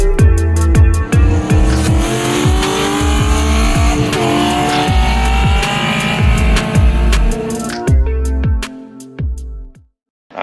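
A Ford AU Falcon SOHC VCT inline-six engine revs hard and loud up toward 6600 RPM, with rapid repeated throttle bursts and a rising, sustained roar before cutting off near the end.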